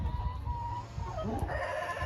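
Chickens in a pen stir and cluck as a hen from a neighbouring pen is put among them, a low busy farmyard murmur with brief fowl calls rising near the end.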